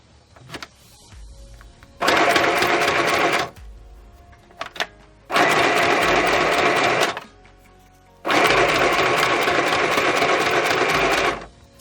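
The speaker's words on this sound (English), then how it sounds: "Let's put some stitches around the pocket" A sewing machine sews a running stitch around a junk journal pocket in three loud bursts of rapid stitching, each lasting a couple of seconds, separated by short quiet pauses with faint clicks.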